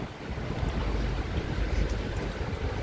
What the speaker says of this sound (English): it's very, very windy and rainy